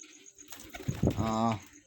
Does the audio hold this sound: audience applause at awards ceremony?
no